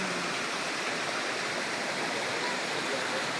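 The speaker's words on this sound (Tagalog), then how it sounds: "Ang galing ng tubig." Clear river water flows steadily in a remote spot far from the road, making a constant, even broadband rush with no breaks and no voices.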